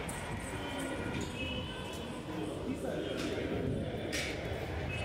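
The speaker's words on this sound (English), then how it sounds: "We came by metro rail." A metro rail train in Bangalore gives off a steady, loud rumble and roar that fills the whole stretch, with voices faintly mixed in.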